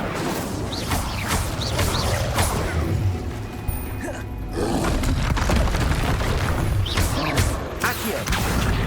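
Incendio fire spells are cast during a chaotic fight with two trolls in Hogwarts Legacy, with loud, dense roaring, crashes and mechanical clatter, a voice briefly shouting over the constant din.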